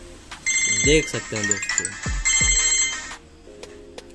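An Itel Magic X 5G phone rings with an incoming call, a bright repeating electronic ringtone melody running loud and close for about three seconds while someone talks over it.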